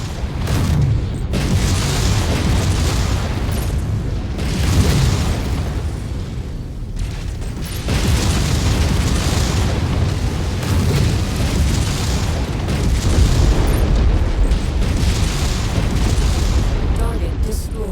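Heavy weapons fire and booming explosions from battling mechs in MechWarrior 5, a dense, loud barrage of blasts rolling almost continuously with brief dips between volleys.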